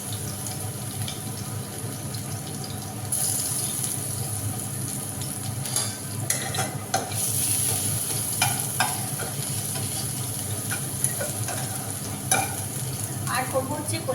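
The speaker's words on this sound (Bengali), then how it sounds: "প্রথমে শুকনো লঙ্কা ফোড়ন দিলাম, তারপরে রসুন" Dried red chillies and crushed garlic fry in hot oil while being stirred, a steady close sizzle with occasional scraping clinks from the spatula.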